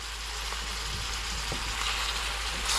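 Eggplant marinara parmesan with sauce and cheese frying in a pan, a steady sizzle with a few soft stirring scrapes and a constant low hum underneath, no talking.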